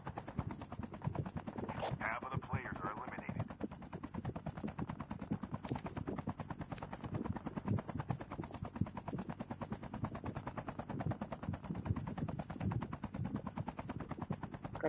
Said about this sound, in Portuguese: tô trocando tiro por aqui